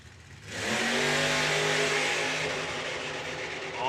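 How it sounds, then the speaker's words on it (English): A VW drag car launches off the line and accelerates hard toward 300 feet, its engine misfiring, rising from quiet into a loud, continuous rough roar with uneven rasping tone. "off he goes, but misfiring all the way up to the 300 foot, and Steve has to lift off the throttle."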